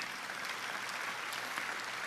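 A church congregation claps during a morning prayer service, a soft, even, distant-sounding patter of many hands held at a steady level throughout.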